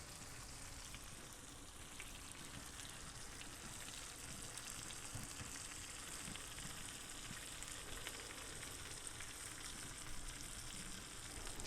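A ribeye steak is being basted as it sizzles in a cast iron skillet, giving a steady, dense frying hiss and crackle that runs unbroken throughout at moderate volume.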